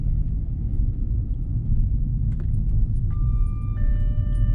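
Steady low engine rumble inside a Jaguar car driving on newly fitted Maxspeedingrods air suspension, a constant close drone with a few faint tonal chimes near the end and no talking.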